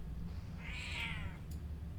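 A cat meows once in a drawn-out, moderately faint call inside a World of Warcraft game scene, heard alone over a steady low background hum.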